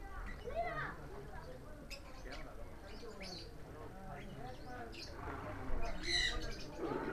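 Bird calls fill a small private zoo aviary with a macaw close by: repeated chirps and harsh squawks over a busy, steady bed of overlapping bird noise, with a louder burst of calls near the end.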